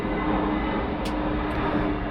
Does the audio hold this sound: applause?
no